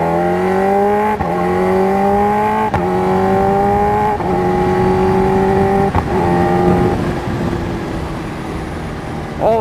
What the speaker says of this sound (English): I'll go all the way up and down through the gears, and I'm not going to touch the clutch